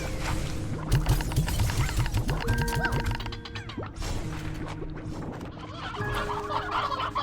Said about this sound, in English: That's a lot of fucking chickens.